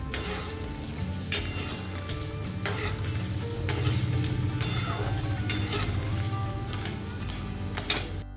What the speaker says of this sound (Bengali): তো ওগুলোই ভেজে নিচ্ছিলাম।